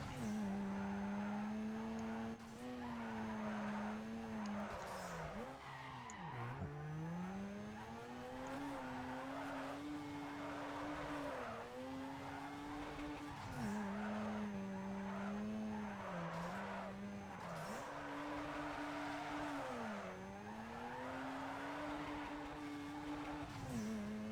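A tuned Mazda RX-7 drifts in Need for Speed Underground 2, its tires squealing almost continuously over a steady engine drone whose pitch dips and recovers with each slide; no voices.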